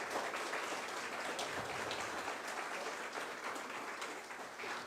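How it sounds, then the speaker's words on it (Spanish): A church congregation claps during a sermon service, a continuous, fairly distant and soft roar of many hands with no break. "Denle un fuerte aplauso al Señor."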